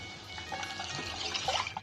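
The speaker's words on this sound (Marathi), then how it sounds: "आता ह्यात आपण एक कप दूध घालून घेऊया" A cup of milk poured into millet rice simmering in a pot, making a short, faint liquid pour and trickle with light splashing that builds slightly toward the end.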